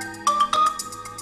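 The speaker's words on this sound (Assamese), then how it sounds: "মৰমে ফোন কৰিছে।" A mobile phone ringtone plays for an incoming call, a bright, repeating electronic melody with a stronger middle note run, close and clear with no one talking.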